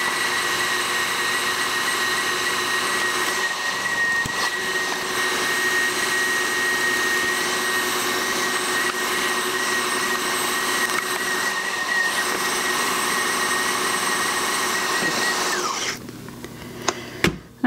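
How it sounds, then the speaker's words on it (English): Electric hand mixer whipping egg whites for keto cloud buns, a loud steady high whine that runs unbroken for about sixteen seconds before cutting off, followed by a few faint clatters. "So I'm going to start whipping. It's going to be loud"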